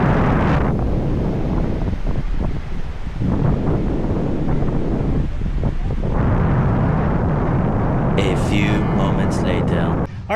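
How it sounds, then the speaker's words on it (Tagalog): Strong surf pounds Bulabog Beach in Boracay, a loud continuous roar of breaking waves mixed with heavy wind buffeting the microphone throughout. "Pero sobrang dami pa rin nagsiswimming dito kahit sobrang lakas ng alon."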